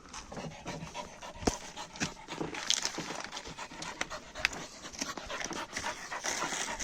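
A rescued dog pants rapidly and steadily close by on a hot day, with faint outdoor rustling and small clicks around it.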